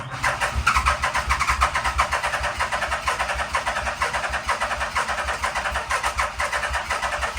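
A 1987 Yamaha engine cranks and fires, running in a steady, loud, rough rhythm close by throughout.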